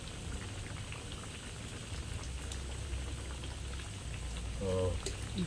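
Thin slices of sweet potato cook in a pan with sugar for camote cue, giving a soft continuous bubbling sizzle with a brief clatter near the end, close and fairly quiet.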